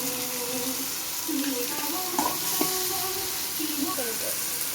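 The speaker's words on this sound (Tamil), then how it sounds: "இதோட பச்சை வாசமும் இதுவும் லைட்டாக வதங்கட்டும்" Ingredients for pirandai chutney sautéing in a pan, a continuous close sizzle and hiss with a few scraping stirs, while a person talks over it.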